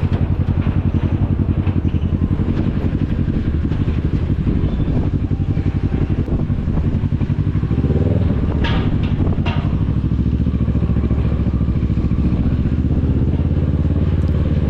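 Motorcycle cruising on a touring ride across Sumatra, from Bandar Lampung toward Sabang, its engine droning steadily and close with wind buffeting the microphone and a brief rattle partway through, with no talking.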